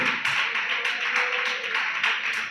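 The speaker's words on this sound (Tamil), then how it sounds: "2-3 கைத்தட்டு சத்தம் தான் கேட்குது." A few scattered hand claps ring out from a church congregation during a Tamil Christian service, several sharp bursts in steady succession against a background of room noise.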